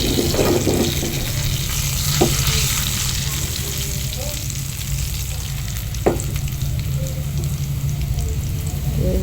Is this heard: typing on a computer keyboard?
no